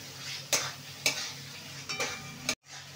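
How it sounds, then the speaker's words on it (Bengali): Fish is stirred into fried spice paste in a pan, a sizzling bed broken by four or five scraping strokes of a spatula against the metal, close and steady, ending in a sudden cut; no one speaks. "এবার মাছগুলোকে দিয়ে দেবো, দিয়ে ভালো করে একটু নাড়িয়ে চাড়িয়ে নেব।"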